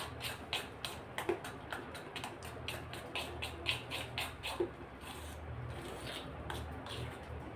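Medu vada batter beaten by hand makes soft, rhythmic slapping and squelching ticks, faint and steady, repeating roughly every third of a second throughout.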